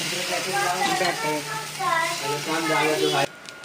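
A ghavan rice pancake roasting in an oiled pan over a medium gas flame gives a steady close sizzle. Harmonic speech-like tones ride on top for most of the stretch, and the sound cuts off sharply near the end.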